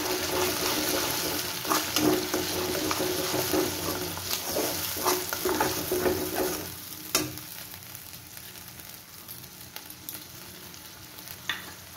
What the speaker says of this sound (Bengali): এবার এর মধ্যে টমেটো পেস্টটা দিয়ে দিলাম।